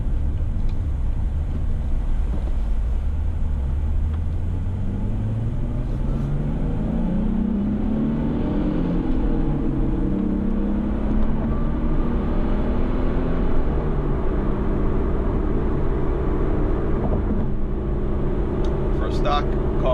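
Inside a stock-exhaust Nissan 370Z Nismo on Tennessee roads: a steady roar of tire noise and engine drone, rising and falling gently as the car accelerates, with the exhaust barely audible under it.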